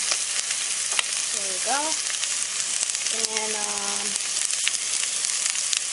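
Onions and shallots sizzle loudly and continuously in a pan while frying for a Haitian chicken sauce, with brief squeaky utensil scrapes and a short spoken remark over the hiss.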